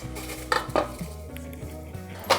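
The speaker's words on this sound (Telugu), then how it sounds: "స్టవ్ ఆపుకొని గిన్నెలోకి తీసుకుంటున్నాను" Metal utensils clink and scrape against a metal bowl in a few sharp knocks as jaggery semolina laddu mixture is scooped in off the stove.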